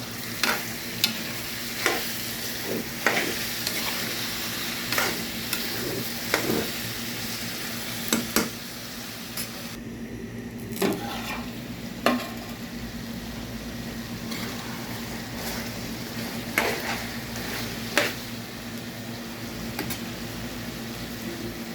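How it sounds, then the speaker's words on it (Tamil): Chicken pepper fry with crushed fennel and cumin being stirred in a pan, a constant close sizzle broken by regular spoon knocks and scrapes against the vessel every second or two. "பெருஞ்சீரகம் சின்ன ஜீரகம் இடித்து வச்சுருக்கு அதில் ஒரு கிண்டு கிண்டியிருக்காங்க"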